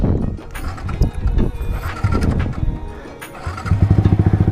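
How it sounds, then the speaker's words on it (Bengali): A Yamaha R15 V3 motorcycle with a modified exhaust rides along a road, its engine droning loud and close with a rapid pulsing burble toward the end. "ওয়াও, মানে এক্সস্টের যে সাউন্ড আমি বুঝাইতে পারবো না যে এত স্মুথ আর এত একটা চড়া সাউন্ড।"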